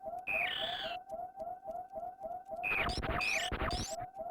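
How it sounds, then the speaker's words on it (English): A low health alarm from a Metroid video game beeps in a steady, rapid electronic pulse. A brighter, swooping creature-like cry from the game rises over it twice. "The baby Metroid recognizes my health alarm"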